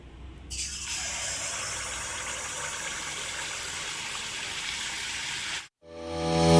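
Neyyappam batter of rice flour hits hot oil in a pan with a loud, steady broadband sizzle that holds for several seconds, breaks off in a brief gap, then swells again as frying resumes.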